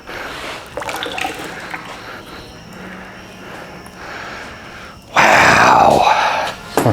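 Water gushes out of a removed oil filter from a swamped 1973 VW Super Beetle 1760 cc engine, a sudden loud splashing pour near the end after quieter workshop rustling and faint voices.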